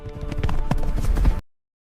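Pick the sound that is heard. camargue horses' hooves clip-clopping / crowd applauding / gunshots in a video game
camargue horses' hooves clip-clopping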